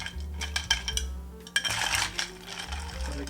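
Ice clinks and rattles against glass as a bar spoon stirs a whiskey cocktail, a close, continuous jangle of small knocks over a low background hum.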